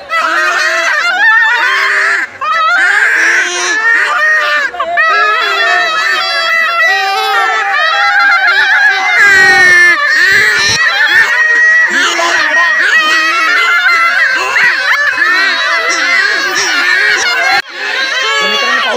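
Toy horns blare continuously at the Chhabina festival in Mahad, Raigad, a loud dense honking chorus overlapping with crowd babble and shouting voices throughout.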